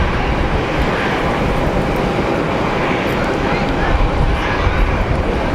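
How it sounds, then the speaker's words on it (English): Jet landing at Geneva Airport with clamshell thrust reversers deployed, a dense loud roar of reverse thrust filling the whole stretch, with someone speaking over it. "More clamshell reverser action."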